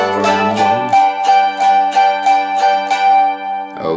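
Mandolin chords strummed in an even eighth-note rhythm at a beginner lesson pace: about ten bright, ringing strums, close and clear, alone with no talking, ending on a fresh strum.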